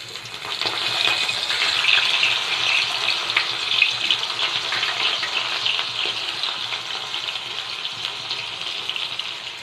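Sidol shutki fritters deep-frying in oil, a loud, dense sizzle with bubbling crackle that holds steadily throughout.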